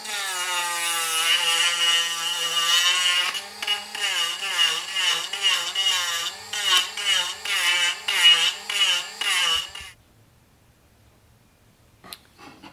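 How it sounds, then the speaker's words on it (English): A Dremel rotary tool sands a carved baseboard scrap wood pumpkin in a garage. A steady, close, high-pitched grinding whine gives way to pulsing strokes against the wood, then stops and leaves near silence. "I took this to the Dremel just to speed up my sanding"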